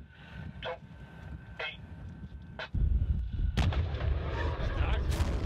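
A Danish Leopard 2A5 tank's 120mm cannon fires a high-explosive fragmentation shell with a deep, loud boom that rolls on into a lingering rumble, after a few faint short sounds.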